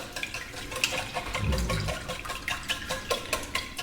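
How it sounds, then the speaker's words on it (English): Eggs for lemon curd are whisked in a bowl with quick, steady wet clicking and sloshing strokes at close range, without any talking. "going to whisk this all up"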